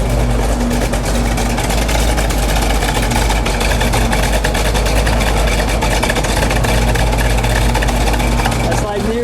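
A car engine idles loudly and steadily, a close, constant low rumble that fills the whole stretch with no pauses.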